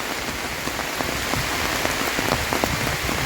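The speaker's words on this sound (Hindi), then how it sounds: "फॉरेस्ट के अंदर इतना तेज बारिश महसूस हो रहा है" Heavy rain pours steadily in Chandur Forest, Hooghly district, a dense hiss of drops striking leaves and ground with scattered louder splatters, no voices.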